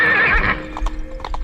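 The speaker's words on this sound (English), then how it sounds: "the horse threw him to the ground and ran off" A horse neighing loudly up close, then hooves clip-clopping in quick uneven beats as it runs off, with no voices.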